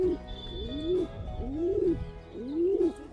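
Pigeons in a home loft coo close by, with four distinct rising-and-falling calls repeating about once every second over faint background chatter from other birds.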